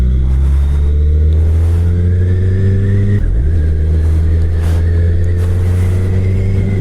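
Suzuki Hayabusa motorcycle engine running steadily on a highway, a loud close steady drone with a brief dip and shift in pitch midway before settling back into smooth cruising, with no talk.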